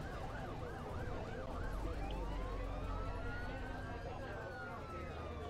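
An emergency vehicle siren sounds behind a bus in a London game route, wailing in fast rising and falling sweeps before it switches to a slower, longer tone, loud and steady over the low hum of the engine.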